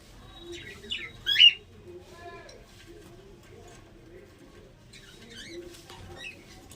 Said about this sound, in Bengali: আর এই আমার ককটেল পাখি।